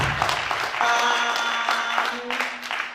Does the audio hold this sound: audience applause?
yes